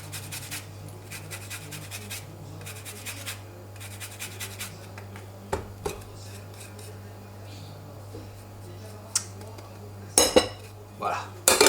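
Utensil clinks and scrapes while eggs, lemon zest and other ingredients are mixed in a saucepan, with steady soft scraping throughout and a louder burst of metallic clatter near the end over a constant low kitchen hum.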